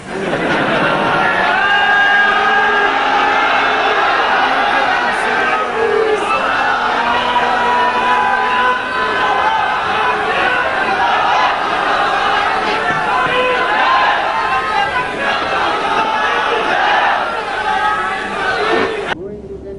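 A large crowd at a jubilee gathering chanting slogans in unison, loud and continuous throughout, with voices massed together in a steady roar.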